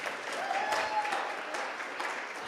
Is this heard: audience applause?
yes